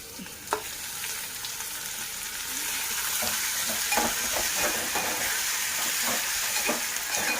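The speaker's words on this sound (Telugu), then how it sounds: "ఇలాగ ఎర్రగా వేగిన తర్వాత టమాటా ముక్కలను యాడ్ చేసుకుందాం" Tomato pieces added to a pan of browned ingredients for a fenugreek-tomato curry, a steady moderate sizzle with scattered crackles and soft stirring clicks, growing slightly louder partway through, with no talking.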